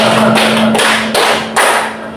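Participants in a counting clap game strike their hands together in unison. A few loud, crisp group claps come at a steady pace, close up, over a low constant hum.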